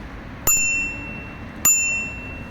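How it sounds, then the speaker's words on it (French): Two bright bell dings from an Isinwheel U4 folding electric bike, about a second apart, each ringing out and fading, close and clear over a quiet background. "Ensuite, nous avons la sonnette."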